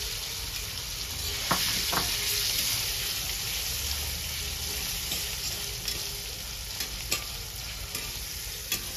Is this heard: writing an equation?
no